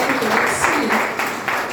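Applause from a church worship gathering, a steady wash of clapping with a voice talking over it throughout.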